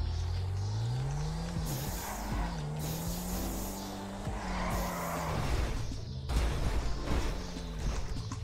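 A car driven at full speed in the FiveM game, its engine droning and shifting pitch steadily, with tire noise and brief skidding squeals; loud and continuous throughout, with no talk.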